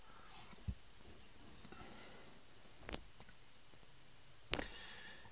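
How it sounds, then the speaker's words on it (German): Crickets chirp in outdoor night ambience as a steady, faint, high-pitched trill that runs throughout, with a few soft clicks and knocks close by. "Zirpende Grillen und so. Hintergrundatmo, ja."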